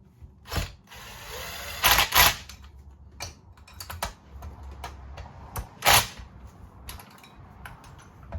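Tightening bolts by hand with an Allen key during a Husqvarna 61/272XP hybrid chainsaw rebuild gives sharp, close metallic clicks and ratcheting ticks, several louder snaps standing out among lighter taps.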